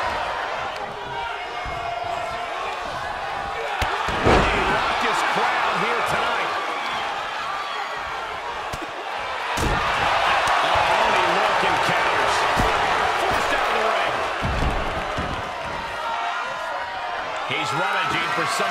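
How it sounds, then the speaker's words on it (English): A raucous crowd at a wrestling match, an extreme rules ironman bout, cheers and roars steadily throughout, with swells of noise and a few sharp slams cutting through. "The raucous crowd here tonight."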